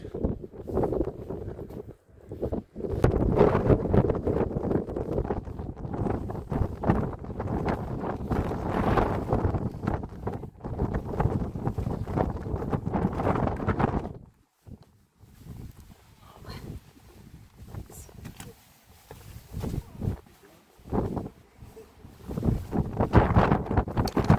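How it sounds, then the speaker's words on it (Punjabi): Strong wind gusting on an exposed hilltop in Tasmania, roaring and buffeting a microphone in heavy bursts, with a brief lull midway before the gusts return. "ਹੁਣ ਇੱਥੇ ਉੱਪਰ ਆ ਕੇ ਨਾ ਹਵਾ ਜ਼ਿਆਦਾ ਚੱਲਣ ਲੱਗ ਗਈ ਸੀ ਇਸ ਕਰਕੇ ਹਵਾ ਦੀ ਆਵਾਜ਼ ਜ਼ਿਆਦਾ ਸੀ"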